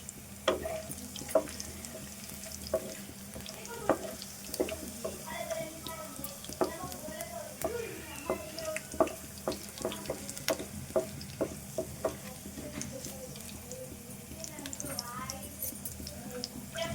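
Spices and garlic fry in a pot for chicken masala soup, making a low sizzle with scattered clinks and stirring taps while a person talks over it.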